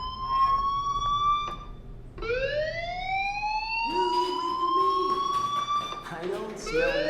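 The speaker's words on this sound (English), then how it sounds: "Hey, do you hear that fire alarm?" A fire alarm blares in Life is Strange, a wailing electronic tone sweeping up and down in repeated cycles, loud and continuous, while a voice talks over part of it.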